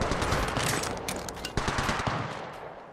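Rapid automatic gunfire from a battle in the mobile shooter Apex Legends Mobile, dense bursts of shots that stay loud for the first half, then grow sparser with a few sharp reports before tapering off.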